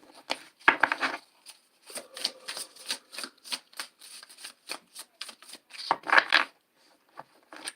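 Tarot cards being shuffled by hand, soft papery riffles and slides arriving in short irregular bursts, close and fairly quiet, with a couple of fuller riffles at the start and near the end.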